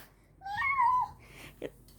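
A two-year-old child imitates a cat with a single drawn-out, rising-and-falling meow, fairly close and clear, followed by a short vocal sound.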